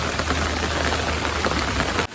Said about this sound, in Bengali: আল্লাহ, পানি একেবারে বৃষ্টি হয়ে যাচ্ছে, হয়ে গেছে দেখুন।